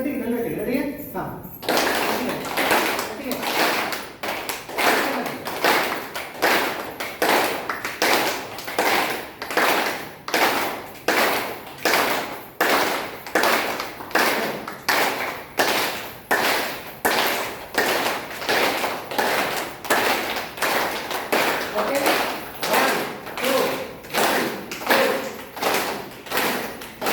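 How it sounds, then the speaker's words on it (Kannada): A group claps hands together in steady unison during an International Yoga Day session in Bagalkot, loud regular claps repeating about once per second for nearly half a minute, with voices faintly underneath. "ಹಾಂ ಚಪ್ಪಾಳೆ ಹಾಕಿದ್ರೆ ಒಟ್ಟಿಗೆ ನನ್ನ ಜೊತೆ"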